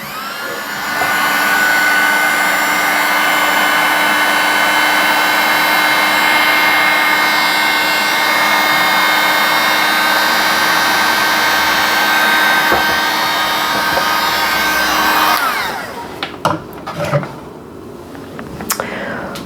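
A hair dryer blowing over a first coat of watercolor paint on a galaxy-themed bookmark, a steady loud whir running close for about fifteen seconds before it switches off and a few small handling sounds follow.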